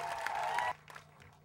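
An audience at the Sugarland Rally applauds with a dense burst of clapping that cuts off abruptly partway through. A quieter room follows, with faint scattered sounds.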